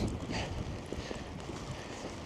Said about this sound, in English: the wind is gonna rip this away